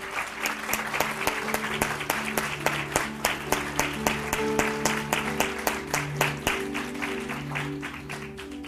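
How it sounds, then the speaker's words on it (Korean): Steady, rhythmic applause from a church congregation fills the sanctuary, with sustained keyboard or organ chords droning underneath the clapping throughout. "오늘 말씀을 통해 승리하신 주님 앞에 우리 큰 박수 올려드립시다."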